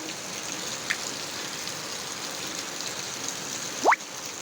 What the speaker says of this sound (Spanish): Full lluvia en la Jaime Nebot.